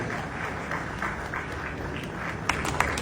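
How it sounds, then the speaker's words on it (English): Audience applause at a public event fills the clip as a steady, dense wash of clapping at moderate level, with a couple of sharper single claps near the end. "Please, a round of applause for the anointed boy."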